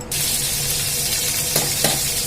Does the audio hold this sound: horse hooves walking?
no